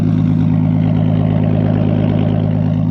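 A Nissan S14 with an RB25DET engine and straight-pipe exhaust idles loudly and close by, giving a deep, steady, throbbing rumble that holds without any revving.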